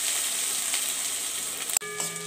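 Grated ginger fries in oil with a soft, steady sizzle, broken near the end by a brief sharp clink followed by a short ringing tone.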